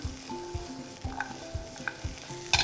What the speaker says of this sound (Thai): เราผัดนิดนึงนะครับเพื่อให้น้ำมันเนี่ยเคลือบผิวของเขาทุกด้าน